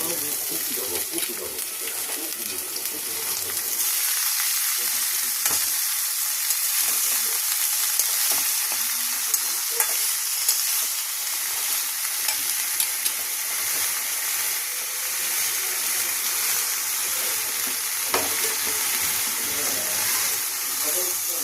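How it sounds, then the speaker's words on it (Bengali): Potatoes and boiled banana flower fry in a pan with a constant close sizzle, broken by occasional stirring scrapes and clinks. "দেখো আলুগুলো কিন্তু ভাজা ভাজা হয়ে গেছে। এবার আমি মোচার সিদ্ধটা দিয়ে দেবো।"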